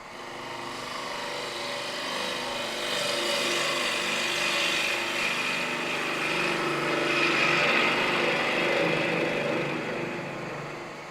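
A woodturning lathe spins as a tool turns out the middle of a lacquered piece, giving a steady, moderately loud scraping hiss that swells and eases over the cut.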